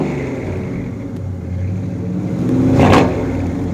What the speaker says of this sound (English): here, listen to the exhaust